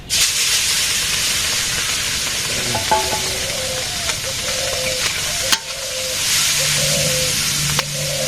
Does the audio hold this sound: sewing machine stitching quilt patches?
no